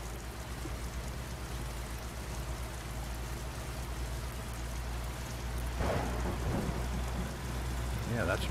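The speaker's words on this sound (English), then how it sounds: "Yeah, that's some good thunder" Simulated rainstorm in American Truck Simulator: a steady hiss of rain on the truck runs throughout, then a deep rumble of thunder rolls in near the end, broad and loud against the rain.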